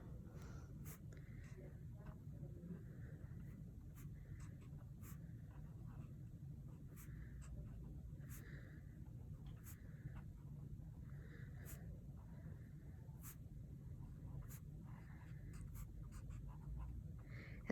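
Pen or marker tracing letters by hand on paper, faint repeated short scratchy strokes in an uneven rhythm against a quiet background hum.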